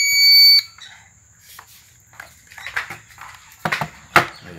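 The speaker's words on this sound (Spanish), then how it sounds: "Ahora vamos a prender nuestra alarma." A GSM home alarm system gives a loud steady electronic beep tone for about half a second as it is switched on, followed by quieter clicks and handling sounds.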